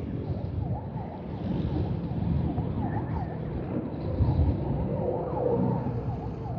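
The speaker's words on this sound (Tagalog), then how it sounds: "Ano bang ambulansya to?" Ambulance siren wailing steadily on a road in a repeating rising-falling pattern, with traffic rumble beneath and no speech.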